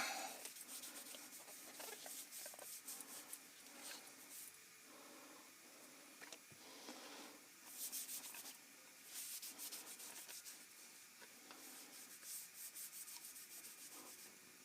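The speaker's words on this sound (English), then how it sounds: "you polish out your stock a little bit" Faint rubbing and sanding strokes as a wooden double-barrel shotgun stock is polished by hand, soft repeated scrapes with short pauses, close and quiet.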